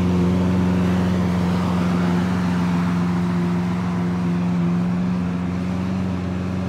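A Lamborghini Aventador SV engine pulls hard, heard from inside as a loud, continuous, deep droning roar with strong steady tones, easing slightly near the end.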